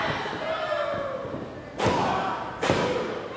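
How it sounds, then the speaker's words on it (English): Running double knee strike in a women's wrestling championship match, two heavy booming thuds on the ring canvas about a second apart, with a commentator talking over a crowd-filled arena. "Running double knee."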